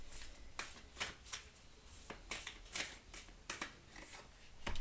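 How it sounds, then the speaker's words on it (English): Oracle cards being shuffled and drawn by hand, a quiet series of soft riffling bursts and card slaps repeating irregularly at close range, with no talking. "let's draw you an oracle card"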